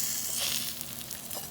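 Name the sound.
Chinese chive pancake sizzling as it fries in pan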